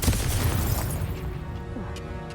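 A Confringo fire spell blast in the Hogwarts Legacy video game: a loud, deep booming explosion at the start that rumbles and decays over about two seconds, with faint crackling and game effects after.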